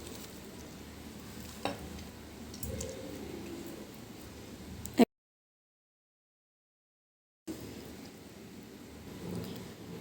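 Chopped onions go into a hot pan of oil while cooking egg masoor dal, with a low steady sizzle and stirring, broken by a few seconds of total silence before the frying resumes.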